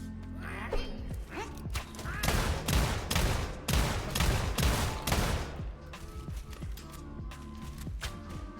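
Video game gunfire from Kimbo pistols pounds out in dense, loud bursts. The volleys overlap mechanical clanks and creaks, then thin out to sparser shots toward the end.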